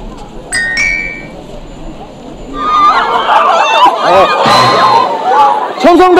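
A group of people shouting a cheer together during a team game on a school-trip style outing in Gyeongju, loud chanting voices rising over background chatter and clinks, growing louder toward the end.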